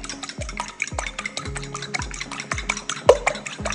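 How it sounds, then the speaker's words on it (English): Two large eggs are whisked in a mixing bowl, giving a quick, steady tapping and sloshing rhythm of the whisk against the bowl, close and alone. "Just going to whisk them up."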